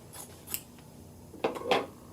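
Scissors cut through a sewn and pressed fabric strip set, giving a few close, crisp snips spaced apart in an otherwise quiet room.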